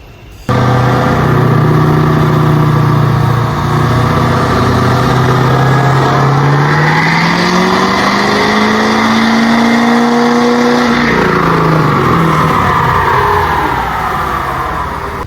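A high-mileage Ford Powerstroke diesel truck with an emissions delete roars through a dyno pull, its engine note rising steadily in a long, loud sustained drone before easing off.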